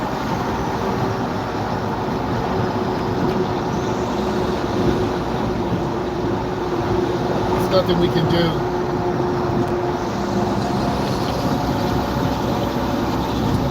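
A gravel truck rumbles nearby on the road beside a moving car, a steady heavy drone filling the whole stretch while a driver talks anxiously over it.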